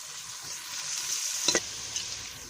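Onions frying in a pan for aloo matar, a soft steady sizzle with a few sharp clinks of a utensil near the middle, close and fairly quiet.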